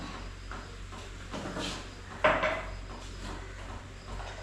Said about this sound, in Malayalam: അപ്പോൾ ഈ ദോശ ഒന്ന് മറിച്ചിട്ടോട്ടെ